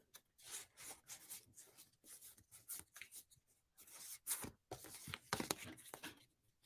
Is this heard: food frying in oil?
no